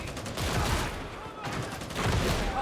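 Rapid bursts of precision gunfire in a video game, dense crackling volleys at close range that pause briefly mid-clip before resuming loudly, with a voice faintly mixed in.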